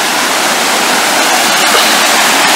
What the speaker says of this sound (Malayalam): ഏതാണ്ട് ഒരു 10 മീറ്റർ അത്രയുള്ളൂ നമ്മൾ ആ വെള്ളച്ചാട്ടത്തിന് താഴെത്തെത്താൻ